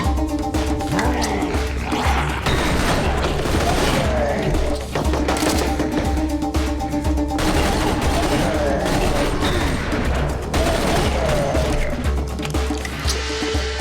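Weapons firing in the shooter Serious Sam 3: BFE: dense, loud bursts of rapid gunfire and heavy thumps run nearly nonstop, with wet squishing impacts mixed in.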